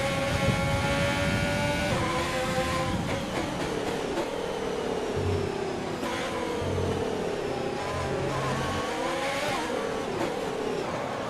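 An F1 race car in a racing video game brakes hard into a lockup, its engine revving and downshifting while tires squeal in a long wavering whine, loud and close with no talk.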